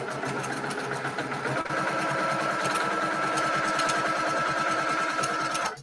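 A sewing machine stitches along a marked line on a sampler quilt block, running as a steady, continuous mechanical whir with a slight shift in pitch early on, heard alone without talk.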